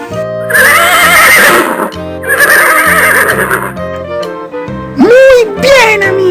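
A horse whinnies in two long, loud, quavering calls, followed by a shorter, rising snort-like neigh, with musical backing throughout.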